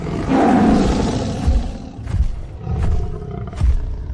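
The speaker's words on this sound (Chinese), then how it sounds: "老虎，真的是真老虎！" A tiger roars loud and close, a long opening roar followed by several shorter rumbling growls in a pulsing rhythm, with no speech.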